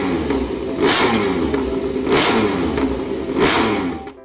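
A toy MotoGP motorcycle revs its engine in three loud, rising whines spaced about a second apart, each sweeping up and then falling back to a rumbling idle.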